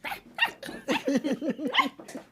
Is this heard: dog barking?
yes